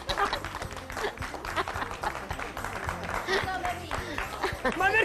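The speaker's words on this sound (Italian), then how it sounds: "Applausi!" A crowd claps and applauds steadily and loudly throughout, with voices talking and calling out over the clapping.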